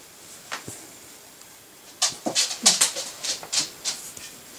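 A dog panting and whimpering close by in a home sewing session, with soft breathy huffs and small whines that rise into a quick run of rhythmic panting bursts, and no speech.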